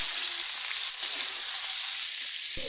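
Chicken pieces drop into hot oil in a wok and fry with a steady, loud sizzling hiss, broken by a sharp burst near the end.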